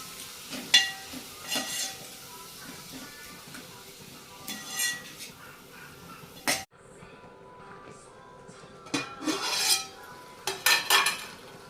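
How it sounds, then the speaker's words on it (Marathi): Tomato mixture being sautéed and stirred in a pan, with scattered metal spoon scrapes and clinks against the pan over a low sizzle, several sharper clatters standing out near and fairly loud. "आता मी हे चांगलं परतून घेते, एकत्र मिक्स करून घेते."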